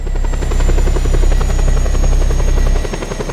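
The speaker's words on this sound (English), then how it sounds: "That's a fun helicopter" A helicopter in the video game Just Cause 2 throbs loudly and close, with steady rotor chop and a high whine, the low rumble dropping away near the end.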